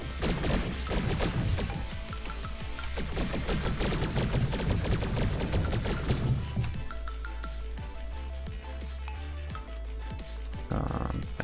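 Artillery in the indie RTS game Adapt or Perish fires in a dense run of sharp, overlapping blasts for several seconds, then thins to scattered booms over a steady low drone.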